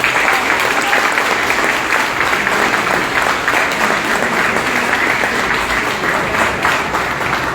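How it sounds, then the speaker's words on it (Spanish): Strong, sustained applause from a crowd at a political training assembly fills the whole stretch, dense and steady with no pauses. "Fuertes palmas, compatriotas"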